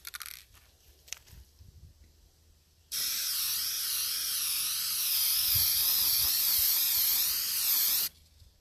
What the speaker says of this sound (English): I'm out here with spray paint and a fence.